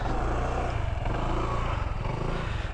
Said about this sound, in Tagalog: Ito yung motor niya.